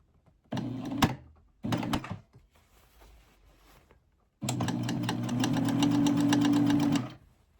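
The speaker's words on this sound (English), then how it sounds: "you're going to stretch your elastic and sew it as flat as possible" A sewing machine stitches stretched elastic flat onto bedsheet fabric for upcycled pants, running in two short bursts, then pausing and running in a longer steady whir, loud and close.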